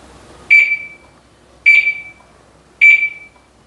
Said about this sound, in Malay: Jadi selepas 10 saat dia akan mengeluarkan bunyi beep 3 kali.